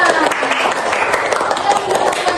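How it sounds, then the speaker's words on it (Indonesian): A crowd claps together in a dense, continuous patter of applause, close and fairly loud, with voices mixed in. "Tepuk tangan semuanya"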